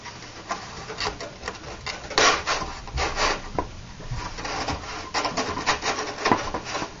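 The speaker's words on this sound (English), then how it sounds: "Now we slide the wing into the fuselage." A model plane wing is pushed into its fuselage in a tight fit, making close, scraping rubs and creaks in short uneven strokes with a few sharper knocks.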